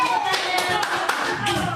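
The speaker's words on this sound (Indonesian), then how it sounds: "Tepuk tangan." Classroom applause for a correct quiz answer, a short burst of many hands clapping close by in quick irregular claps, with a voice speaking over it.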